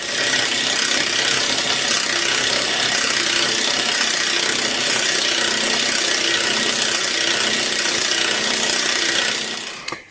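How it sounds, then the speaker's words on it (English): A pneumatic impact wrench hammers steadily and loudly on the engine of a Suzuki DR200 motorcycle being stripped, one unbroken rattling burst lasting several seconds before cutting off. "Focus on that bit in relationship to the engine while I'm impacting."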